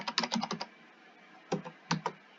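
Someone types quickly on a computer keyboard at close range. A rapid run of clicky keystrokes comes first, then a pause, then a few scattered taps. There is no talking.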